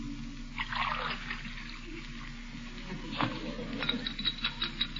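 Water poured into a glass and stirred as a radio show effect, a soft liquid patter with light clinks and scraping, steady at first and then a run of quick taps near the end.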